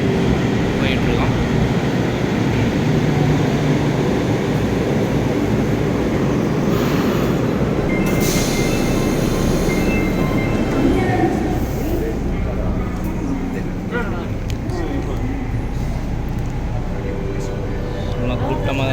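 Inside a moving Japanese metro train there is a steady low rumble and whoosh of the carriage throughout, with voices talking over it.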